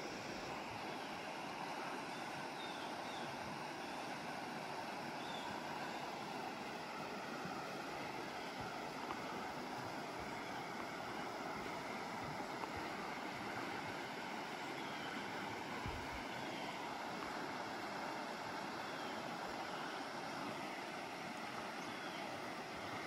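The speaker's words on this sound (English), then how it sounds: "Let's take a look at the river." A river at Clear Creek State Park flows in a steady, broad rush of water, constant and fairly loud throughout, with no voices over it.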